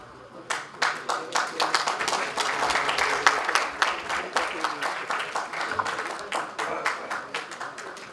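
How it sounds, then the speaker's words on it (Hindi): A crowd at a poets' gathering claps loudly to welcome a former Delhi mayor. Applause swells quickly and stays dense and sustained, with individual claps standing out near the end as it tapers. "एक बार जोरदार तालियों से।"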